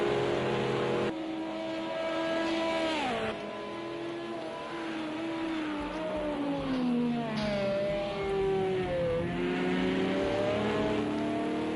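GT1 race car engines in a racing game club race, loud and continuous with pitch sweeping up and down through gear changes and corners, more than one engine overlapping.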